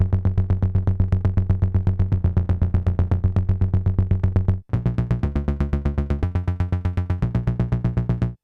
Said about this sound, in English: a little sync bass, and it sounds like this.